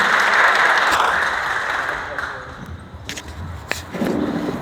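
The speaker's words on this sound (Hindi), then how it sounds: "राजेश जी का स्वागत कीजिए, जोरदार तालियों के साथ में" An audience at a workplace safety day program breaks into loud sustained applause welcoming a speaker, a dense wash of clapping that tapers slowly, with a few thumps and a voice starting near the end.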